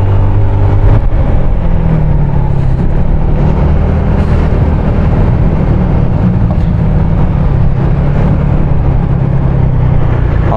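Car engine pulling hard and revving as the car overtakes on the climbing, winding Puncak 2 mountain road, a loud, steady low drone with road rumble throughout and no talking.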